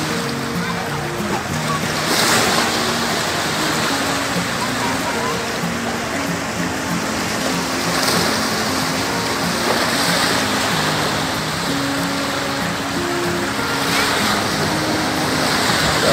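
Sea waves at Cổ Thạch beach wash and hiss steadily on the shore at dawn, a constant broad surf sound with gentle swells, heard alone.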